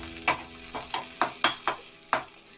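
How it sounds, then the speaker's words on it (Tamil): Green chilli, ginger and asafoetida being sautéed in a pan, heard as a series of about seven short scraping stirs with light sizzle between them, close and moderately loud, with no talking. "இதையெல்லாம் போட்டு நம்ம வதக்கிக்கலாம்"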